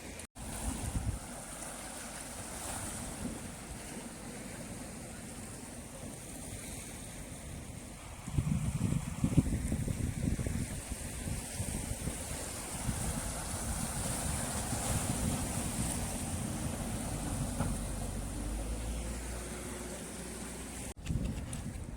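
Sea waves wash steadily onto Kunkeshwar's white sand beach at low tide, a continuous broad rushing surge with wind buffeting the microphone, swelling louder partway through and holding there.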